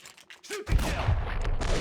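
Gunfire in the video game Max Payne 2, a loud dense volley of shots that bursts in after a brief quiet lead-in and keeps pounding steadily, with a few faint tonal sounds ahead of it.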